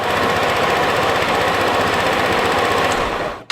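A Tuscany 150 motorcycle engine runs loud and steady up close, then stalls abruptly near the end as its 20-amp fuse is pulled, leaving a brief silence.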